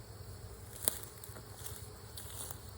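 Honeybees buzzing around an opened backyard hive during an inspection, a soft steady hum of many insects with a faint tap near the start, close but quiet.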